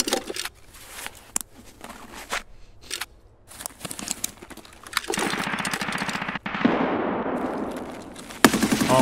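PKM machine gun firing in the video game Escape From Tarkov: a long sustained automatic burst, loud and continuous, preceded by scattered shorter bursts and shots.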